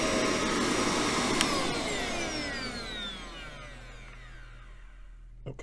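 A Bissell vacuum cleaner runs alone with a loud, steady whine and hiss, its pitch sliding down as the motor spins down and the sound fades toward the end.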